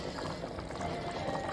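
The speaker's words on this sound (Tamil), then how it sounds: "நல்லா கொதிக்கட்டும்." Rice and water boiling together in a pot while cooking chicken mandi, a steady close bubbling and hissing wash that holds at an even level throughout with no talk.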